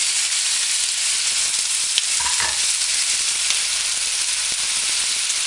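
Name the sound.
artichokes sizzling in a pan with garlic and oil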